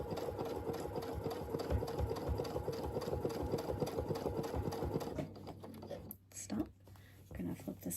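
A sewing machine stitches a churn dash quilt block, its rapid needle chatter running steadily and close for about five seconds before stopping, with quiet talk throughout and a few softer bursts near the end.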